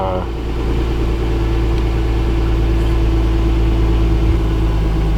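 Turbocharged Lexus IS300 engine idling rich after an injector upgrade, a steady low rumble with a constant hum, close and loud throughout.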